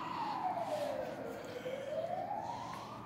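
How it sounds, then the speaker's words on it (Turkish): An ambulance siren wails as it passes along a main road, its tone sweeping down and back up, moderately distant and alone without talk. "Ambulanslar çok geçiyor buradan."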